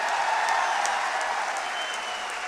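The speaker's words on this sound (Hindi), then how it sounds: "तालियां बजा दोगे तो एक गीत और सुना दूंगा" An audience at a Hindi poetry recital of Ram songs applauds, a dense, even wash of clapping that holds steady for a couple of seconds and tapers slightly.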